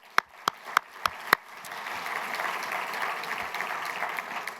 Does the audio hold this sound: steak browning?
no